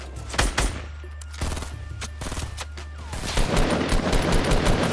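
Rapid bursts of gunfire from the video game Fortnite Battle Royale, loud and close, with dense automatic volleys and scattered single shots continuing across the span, no talk over them.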